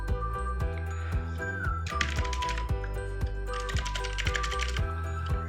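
Brisk keystroke clatter on a white Aula F2088 mechanical keyboard comes in two bursts of rapid close clicking, over a steady tonal background that carries through.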